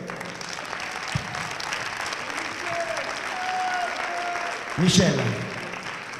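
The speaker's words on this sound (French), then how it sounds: "On peut applaudir Michel, s'il vous plaît." Audience applause for a country dance team coach at a team dance final, sustained clapping from a crowd with a voice speaking over it and a louder burst near the end.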